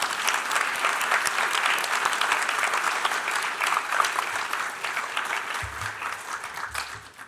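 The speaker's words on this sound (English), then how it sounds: "It's so good, I think they get 2 rounds of applause." Sustained, even applause from a symposium audience for the speakers, a dense steady wash of many hands that fades slightly toward the end, with no talking.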